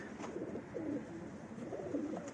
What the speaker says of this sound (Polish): to są gołębie